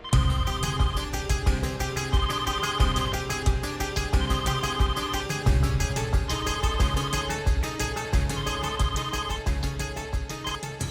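A telephone's musical ringtone plays loudly and continuously, its melody repeating in a steady loop with no voices.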